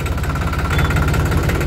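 The diesel engine of a New Holland 3600-2 tractor with a 16+4 gearbox runs close and loud, a steady throbbing idle with an even pulsing rhythm and no voices.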